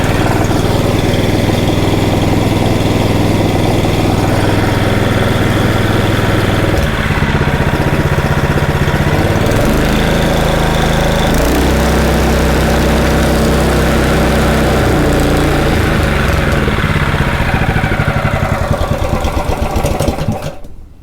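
A Honda GX270 small petrol engine with no compression runs at idle, a loud continuous chugging drone with slight shifts in pitch and speed throughout before cutting off at the end.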